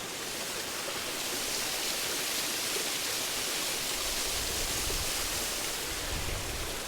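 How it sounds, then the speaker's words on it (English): Issue Clough Waterfall on Black Hill pours in a steady, broad rush of falling water, heard close and continuous on a hazy, slightly windy hillside with no voices. "Issue Clough Waterfall on Black Hill."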